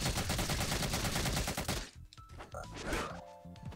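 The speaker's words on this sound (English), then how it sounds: "So there's the reload, which is my taunt." Solid Snake's gun-reload taunt in the Rivals of Aether fighting game, a rapid loud mechanical burst for nearly two seconds, then a quieter clatter of clicks and metallic reload sounds.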